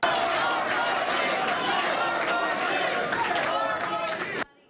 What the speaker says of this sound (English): A sea of supporters celebrating as Beshear accepted the Democratic nomination at the Kentucky Historical Society